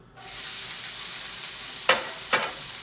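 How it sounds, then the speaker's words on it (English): Peppers sizzle steadily in hot olive oil in a pan, a close, even frying hiss broken by two brief louder stirring scrapes near the end. "we are going to pretty much just saute our peppers"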